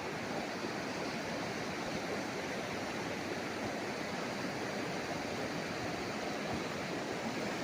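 A river runs beside a 1.4-hectare farm property in Majayjay, Laguna, giving a steady, dense rush of flowing water that holds at an even level throughout, with no talk heard.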